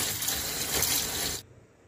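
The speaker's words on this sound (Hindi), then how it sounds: "इसीलिए ठंडे पानी से आप इसको जरूर धोइए।" Boiled macaroni is rinsed under cold running water, a steady broad hiss of splashing water that stops abruptly near the end, leaving quiet room noise, with no talk.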